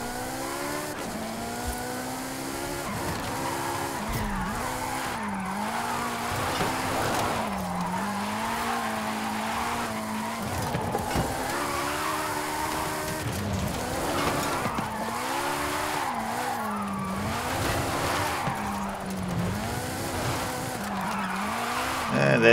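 A car in Forza Horizon 5 with traction and stability control switched off skids, tires squealing in long wavering tones over a steady engine drone for the whole stretch.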